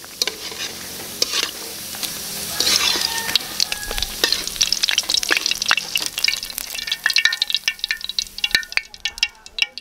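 Vegetables for crispy pakbet sa gata deep-frying in oil, with a loud, crackling sizzle and frequent sharp pops and clinks of stirring close by. The frying settles toward the end.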